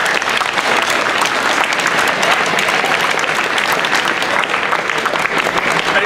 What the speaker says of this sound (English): allow yourselves a round of applause